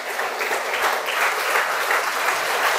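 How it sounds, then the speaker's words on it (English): A round of applause from an audience at a talk by a company CEO, steady dense clapping filling the whole stretch at even loudness with no voices over it. "Can you give a big round of applause to each and everyone?"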